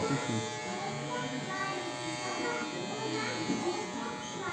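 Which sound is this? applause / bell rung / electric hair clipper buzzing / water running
electric hair clipper buzzing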